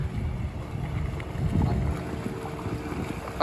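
A boat motor near Puducherry drones low and steady with water and wind rushing past the microphone, continuous and close, with a brief louder bump at the end.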